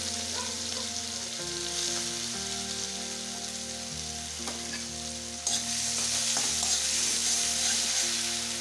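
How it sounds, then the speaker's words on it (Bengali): Chopped onion fries in a hot pan for dhaba-style egg curry, with a steady sizzle and occasional stirring scrapes that grow louder near the end, with no voices. "এখন দিয়ে দেবো পেঁয়াজ কুচি।"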